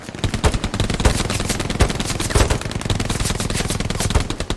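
Gunfire in the World War II shooter game Hell Let Loose during an assault on artillery guns: dense, continuous machine-gun bursts and rifle shots crackle loudly and rapidly throughout, with no pause.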